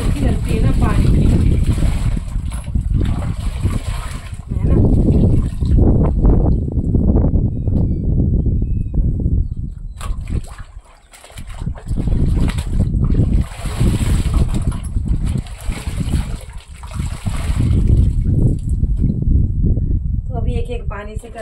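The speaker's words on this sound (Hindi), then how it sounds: "ये ओरिजिनल वॉइस इतनी अच्छी लगती है ना पानी की" Water runs steadily during house cleaning with buckets, a loud, close rushing hiss that fluctuates in strength, with a voice talking over it.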